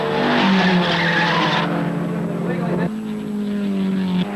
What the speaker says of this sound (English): Allan Moffat's tyre finally lets go in Shell, and he nearly cleans up pit row as he comes to rest.